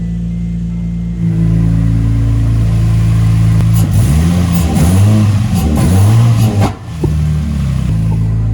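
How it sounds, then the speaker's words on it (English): A car engine idles and revs loudly up close in very cold weather, with a few sharp popping backfire bangs breaking through the revving. "That was a big backfire."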